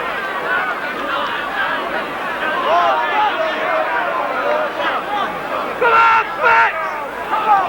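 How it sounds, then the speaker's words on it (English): A rugby league crowd at a Halifax versus Hull match roars and chants in a loud, massed shout, rising in bursts toward the end amid general crowd babble. "A big shout of "come on, Fax" there."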